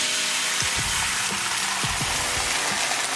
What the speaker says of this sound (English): fry a little egg up in here